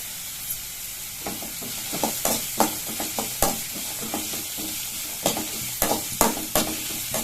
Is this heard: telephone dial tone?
no